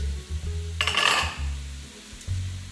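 Pre-cooked penne pasta tipped into a pot for a one-pot sausage and spinach dish, giving a short rattling, sizzling burst amid low kitchen hum and faint clinks.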